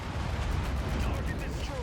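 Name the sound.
missile explosion in a video game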